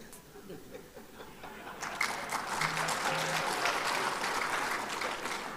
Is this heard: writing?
no